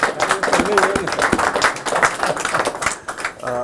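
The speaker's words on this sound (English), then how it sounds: "Really should get a round of applause for that." Applause from an audience at a city justice center dedication ceremony, with clapping throughout under someone speaking, fairly close and uneven.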